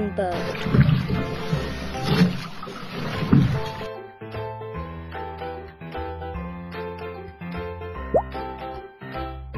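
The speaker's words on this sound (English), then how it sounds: "Rowing boat" A kids' sound puzzle plays its rowing boat effect: watery oar plops and dripping splashes in an uneven rhythm, louder at first, set over a light tune.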